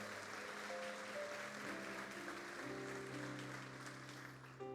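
A church congregation at a Sunday celebration service claps steadily over sustained organ or keyboard chords, the applause moderately loud and continuous.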